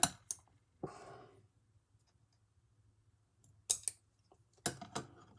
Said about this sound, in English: So I just take a pair of scissors, and I might have to cut it a few times till I get the size I want.